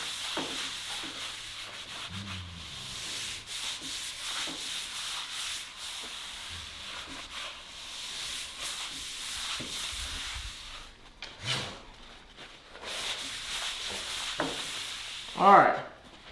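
Wooden bench legs being rubbed with finish by hand, a steady soft cloth-on-wood rubbing and swishing at close range with a few louder knocks and handling sounds, no talking.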